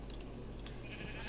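A sheep in the game Minecraft bleats in brief, faint wavering calls over a steady background hum.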